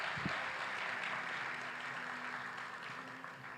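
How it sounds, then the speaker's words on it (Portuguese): A church congregation claps for the Lord in a steady, soft wash of applause that sounds distant and fairly faint throughout. "Você pode aplaudir ao Senhor"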